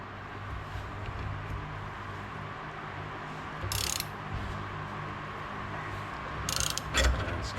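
A hand-operated compressor tool is cranked tight to press a part on a 1976 Jeep CJ-7, producing short ratcheting clicks and metallic bursts in a few spaced groups over a steady low background.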